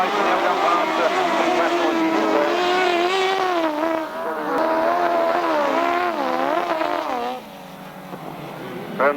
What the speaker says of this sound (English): Around this turn they come then, and Roger Mears has gone back to third